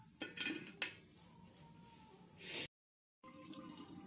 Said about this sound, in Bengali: এবার কড়াইয়ের ঢাকনা বন্ধ করে দেওয়া হবে।